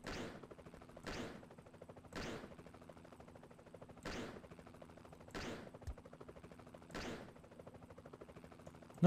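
Six loud, sharp gunshots fire at a steady pace, about one every second or two, over a constant low mechanical hum and faint background noise in RollerCoaster Tycoon 3.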